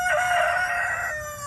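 A rooster crows once in a backyard chicken coop in North Newton, Kansas, a loud, close, drawn-out cry of under two seconds with no talk.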